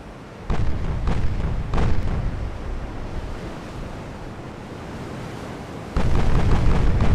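Naval gunfire and shell explosions in Ultimate Admiral: Dreadnoughts, set in an 1890 Japanese Empire campaign, come as a roaring wash of booms. Sudden loud onsets swell into a continuous rumble like heavy surf.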